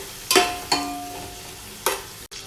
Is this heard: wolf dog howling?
no